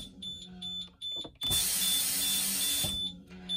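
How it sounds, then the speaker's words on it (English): Low air pressure warning buzzer on a California school bus with dual air brakes, a steady high beeping buzz that sounds in short pulses, then holds as one continuous tone for about a second and a half, inside the cab. "So there's my low air light and buzzer right here."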